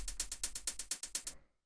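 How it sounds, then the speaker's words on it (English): Second hi-hat in a techno track, ticking in a fast even run of sixteenth notes, about a dozen crisp hits over a low pulse, then stopping abruptly. "So this is just this little hi-hat playing 16th."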